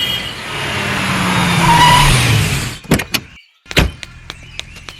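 A car approaches and pulls up nearby with a rising engine hum and tire noise, then quick door clunks and thuds follow as the vehicle stops.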